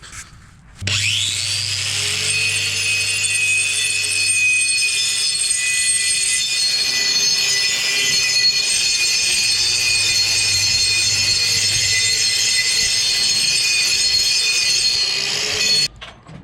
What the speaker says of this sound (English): So I've sanded off the tips.